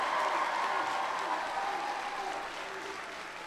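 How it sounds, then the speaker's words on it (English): An audience in a warm school gym in Mooresville, North Carolina, gives a round of applause, a dense, even wash of clapping that fades gradually and stays moderately distant. "So give him a big round of applause."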